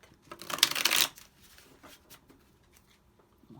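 Tarot cards are shuffled in one quick, crisp riffling burst that fades into a few soft taps and card handling, close and quiet, with no talking.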